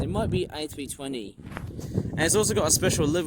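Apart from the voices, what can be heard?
No distinct noise like a dog, phone or traffic.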